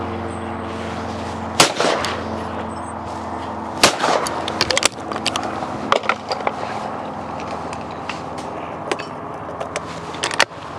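Over-and-under shotgun shots at a game shoot outdoors, several loud sharp blasts spaced a couple of seconds apart with a few quieter distant reports between, over steady low background rumble.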